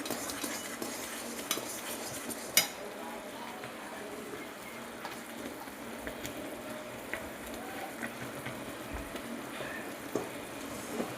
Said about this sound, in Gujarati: મસ્ત આ રીતે સરસ હલાવી દેવાનું છે